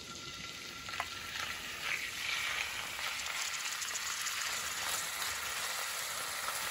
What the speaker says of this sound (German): Und schön anbraten, gell?